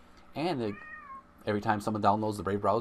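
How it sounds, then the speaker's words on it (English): A pet cat lets out one clear, drawn-out meow with a rising then falling pitch in a quiet indoor room, just before and then under someone talking close by. "that's my cat"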